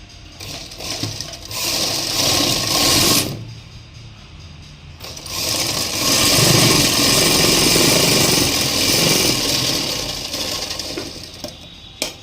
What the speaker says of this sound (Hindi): यहाँ से यहाँ तक इसको फिटिंग की सिलाई लगा देंगे ऐसे